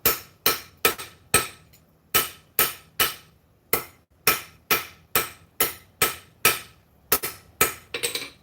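Hammer blows on hot metal during a forge weld in a home blacksmith shop, about twenty sharp ringing strikes in a steady rhythm with brief pauses, close and loud, ending in a quicker flurry of lighter taps.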